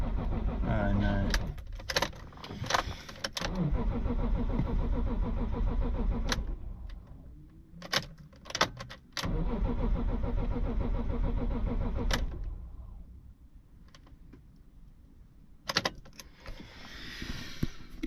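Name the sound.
BMW E46 M3 engine cranking, trying to start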